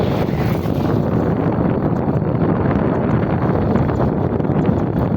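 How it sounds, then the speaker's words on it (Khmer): A gentle breeze blows along a village concrete road in rural Cambodia, a constant low rumbling rush of wind buffeting the microphone with no break. "ខ្យល់បក់រំភើយហ្មងហើយ"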